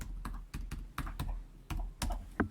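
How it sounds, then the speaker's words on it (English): A computer keyboard is typed on in short bursts of close, clacky keystrokes as a password goes in during a Django admin setup, about a dozen distinct taps with brief pauses, with nobody speaking. "for the password, I will type it out, but it will not show"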